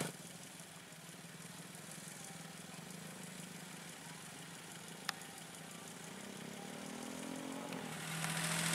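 A D4 locomotive engine rumbles steadily at idle-like pace while hauling sugarcane-filled lorries onto the main line, a continuous low drone with a sharp click midway and the tone rising slightly at the end.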